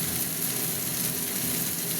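Ginger, garlic and chili spice paste hitting hot oil in a pan for a spicy Bengali fish curry, a loud, steady, close sizzle and crackle with no talking.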